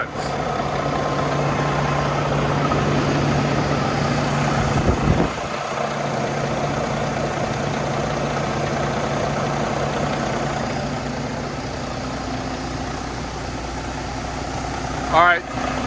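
A car engine idles steadily after finally starting during a repair project, with wires hanging on the exhaust. It gives a loud, close, even rumble with a brief clunk partway through, and voices can be heard over the idle.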